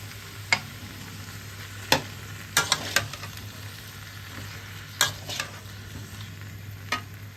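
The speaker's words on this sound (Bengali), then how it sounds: "এদিকে সবজিগুলো আমার প্রায় ভাজা হয়ে এসেছে।" Mixed vegetables, including potato, pointed gourd and pumpkin, sizzle gently in a pan with occasional sharp clinks and scrapes of a stirring spoon, close by and moderately quiet over a low steady hum.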